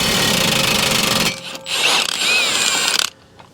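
An impact wrench with a chrome socket hammers at the CV axle nut on a Toyota Corolla, Matrix or Pontiac Vibe, a loud rattling burst, a brief pause, then a second longer burst that cuts off sharply.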